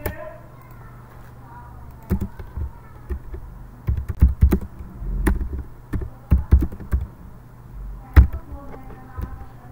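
Code for a Laravel 8 CRUD application is typed on a computer keyboard, uneven clusters of fairly loud key taps over a low steady hum, with a brief voice at the start.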